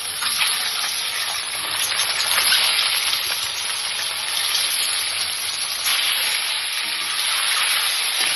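Eggs frying in salted oil in a wok, a steady, close, loud sizzle with a bright hissing crackle that runs unbroken throughout, with no voices.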